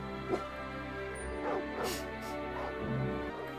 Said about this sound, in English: What's he barking at now?